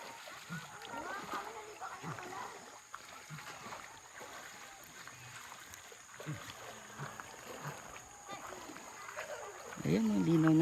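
Water splashes and sloshes as people wade across a clear river near Antipolo, Rizal, with soft irregular splashing throughout and voices talking over it, growing louder toward the end.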